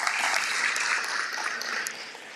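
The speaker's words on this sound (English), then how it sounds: "give them a big round of applause." An audience at an anti-crime and social cohesion summit claps, a moderately loud burst of applause that gradually thins and fades over a couple of seconds.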